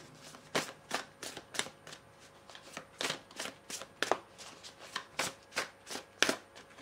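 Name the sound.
shuffling Akasha oracle cards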